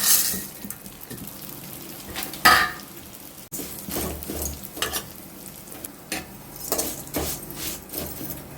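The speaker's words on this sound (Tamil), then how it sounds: "பாயாச சேமியா வறுத்துக்கலாம்." Payasam vermicelli being dry-roasted and stirred in a pan, giving a soft, steady sizzle with scraping stir strokes and occasional clinks of the pan, moderately quiet with no speech.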